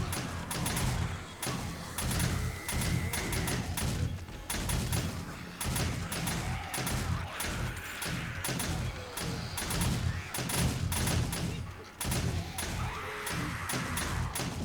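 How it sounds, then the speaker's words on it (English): A turret in the video game 7 Days to Die fires at vultures, a rapid burst of repeated gunshots with sharp cracks and thuds that keeps going under faint background noise. "A single turret up here just to take care of vultures as they fly in."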